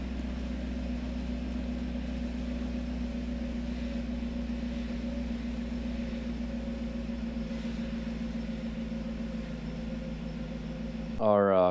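A 1990s Mercedes 500S engine idles steadily after starting, a low constant hum held for about eleven seconds, ending with a brief louder burst.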